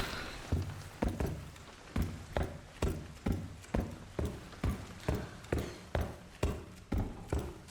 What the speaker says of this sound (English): Damn, her fucking footsteps.